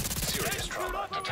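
Gunfire in The Division 2, a quick rapid burst of shots from somewhere unseen, fairly close and loud, over about a second.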